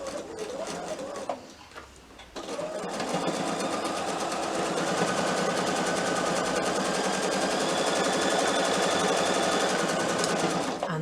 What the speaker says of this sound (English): So I'm going to stitch down the edge.